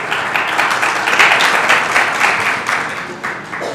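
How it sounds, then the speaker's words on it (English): Applause from a conference audience honouring the technical staff, a dense, steady wash of many hands clapping at moderate loudness for nearly four seconds, thinning slightly toward the end. "Applause for them"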